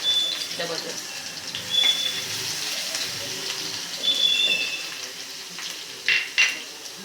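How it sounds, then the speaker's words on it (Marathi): Cinnamon pieces, cloves and garlic being sautéed in ghee for Maharashtrian buttermilk kadhi: a soft, steady frying sizzle with occasional utensil clinks, and a voice partly over it. "दालचिनीचे तुकडे आणि लवंगा घालून घेऊयात तुपामध्ये छान परतून घेऊयात त्यानंतर लसूण घालून घेऊया"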